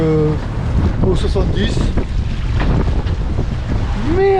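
Wind gusts over a sailboat at sea as waves wash and slap against the hull, loud and constant, with people talking briefly over the roar.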